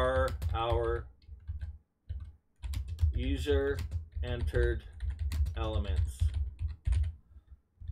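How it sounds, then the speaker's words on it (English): Fast typing on a computer keyboard while coding C++ in Visual Studio 2022, with clustered key clicks running under a man's near, steady talk. "I'm good at typing, I know"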